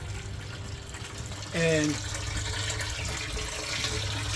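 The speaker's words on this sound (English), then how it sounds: "Water's going inside that pipe." Water trickles steadily into a corrugated plastic pipe inside a drainage manhole, a faint continuous flow heard under a voice, with a short louder burst partway through.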